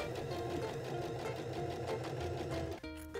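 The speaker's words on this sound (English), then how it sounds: "Sew the armhole seam, taking care not to catch the rolled up garment in the stitching." A sewing machine runs steadily while stitching an armhole seam on a garment with an all-in-one facing, a faint, even mechanical hum that stops near the end.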